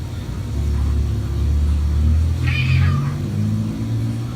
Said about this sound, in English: I would definitely think something was up if my cat sounded like this at the same time every night.